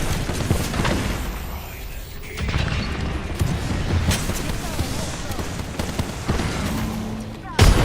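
Rapid gunfire bursts and booms from a first-person shooter video game, dense and continuous with explosions mixed in, over game noise and people talking.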